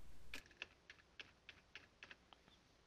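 A short run of light, irregular keystrokes on a computer keyboard while a login password is entered, faint and close with no talk.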